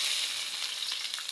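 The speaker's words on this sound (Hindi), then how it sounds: "दाल को तड़का" Hot oil sizzling steadily in a pan while tempering dal, a dense close crackling hiss with small pops throughout and no voices.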